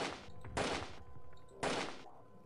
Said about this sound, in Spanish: Vale, son tres tiros.